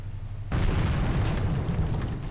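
In the naval video game Victory at Sea Pacific, a torpedo strikes a ship and sets off a sudden deep explosion. The blast is followed by a sustained roaring rumble.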